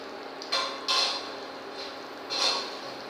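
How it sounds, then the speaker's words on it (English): A metal lid comes off a cooking pot of vegetable upma on a low flame, giving a few brief clinks and scrapes over a steady background hiss with no talking. "Open the lid"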